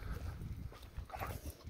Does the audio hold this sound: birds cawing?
no